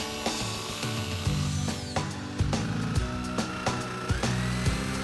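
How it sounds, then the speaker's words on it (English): Jigsaw cutting triangular shapes out of a wooden lighting cookie, a steady buzzing saw drone with rhythmic knocks and stops as the blade moves, close and moderately loud. "used a jigsaw to cut out the shape"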